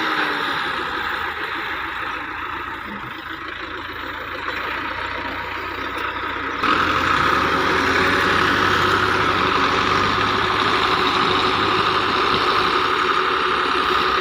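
Small tractor engine hauling a 16-foot trailer, a steady loud diesel drone that rises in level partway through and then holds strong and even to the end, with no talk.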